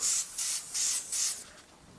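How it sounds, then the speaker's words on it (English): Airbrush spraying overly thinned, watery paint gives four close, steady hissing bursts of spray, each about a quarter second, separated by short pauses before fading out; no voices. "now that's spraying"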